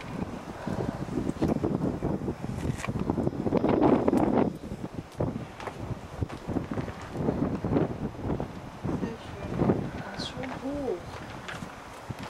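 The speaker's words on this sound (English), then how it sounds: "Hopefully the wind doesn't play too much in the video" Wind gusting across the mic on a hilltop at Runkel Castle in Germany, rough rumbling bursts that swell and fade, with faint bird calls and a few people talking in the background.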